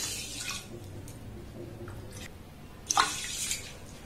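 Water poured into a bowl of sugar to start a sugar syrup, a soft splashing trickle with a brief louder splash near the end, close and quiet, no talking.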